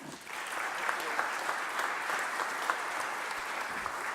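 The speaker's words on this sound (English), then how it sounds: "So please give a round of applause to welcome Mayor Kenney." A press-conference audience welcomes Mayor Kenney with applause, a steady, fairly faint wash of clapping lasting about four seconds.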